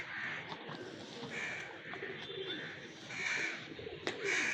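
A crow caws from overhead several times in short, slightly irregular bursts against an outdoor background of faint rustling and murmuring.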